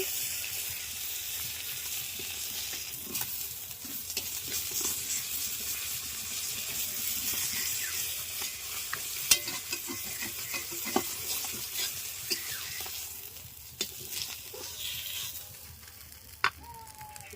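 A large katla fish head fries in a pan with a steady sizzle and occasional stirring clatter, close and moderately loud, with no one talking.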